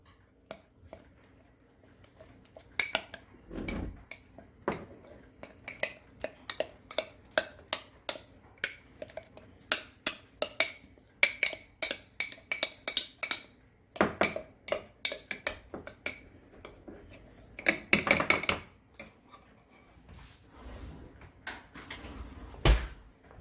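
A spoon mixes sourdough starter thoroughly in a container, giving a long run of close, irregular clinks, taps and scraping knocks, denser in the middle and quieter at the start.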